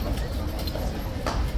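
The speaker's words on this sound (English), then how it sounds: "I'm not sure why he's restless, this horse, but he's definitely restless." A restless horse at Horse Guards shifting its hooves on hard ground, with a few faint clip-clops under steady background noise and murmuring voices.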